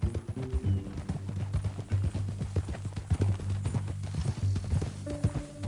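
Horse hooves clip-clop in a steady walking rhythm in a video game, close and distinct throughout, with a faint snort or whinny near the end.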